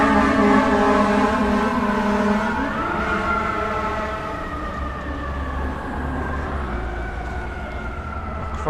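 An approaching ambulance siren on a busy New York City street cycles through loud, shifting wails and yelps over a low traffic rumble.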